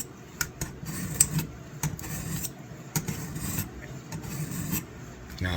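A rusty jack knife blade is ground back and forth on a sharpening plate, giving a steady rasping scrape with regular strokes and small clicks at each change of direction, close and even throughout.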